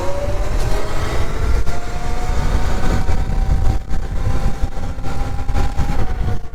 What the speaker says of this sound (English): so you can actually hear the bike a little more